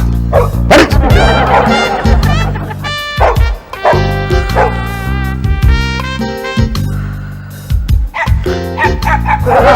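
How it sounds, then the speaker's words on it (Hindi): Dogs bark outside at night: loud, close, repeated barks and yips with whimpering between bursts. "बाहर वाकई कुत्ता भौंक रहा है।"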